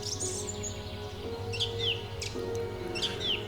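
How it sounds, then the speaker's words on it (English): A small dipper bird calls near water in Yellowstone: a few short, high chirps with quick downward sweeps, repeated at intervals over a steady low outdoor hum. "First up is a little bird we call a dipper."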